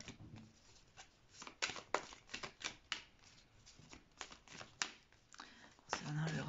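Tarot cards are shuffled and drawn close by, a run of quick papery flicks and riffles at an uneven rhythm, quiet overall, with a voice breaking in briefly near the end.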